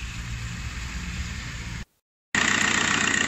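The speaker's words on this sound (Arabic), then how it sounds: "نديماريو الموتور ونكبو عليه" Car engine running steadily after an engine wash, a continuous close idle with low rumble, cut by a brief half-second gap before resuming at the same level.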